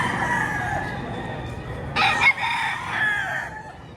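A rooster crows once loudly and close, a rising then trailing call, preceded by lower clucking and farmyard murmur.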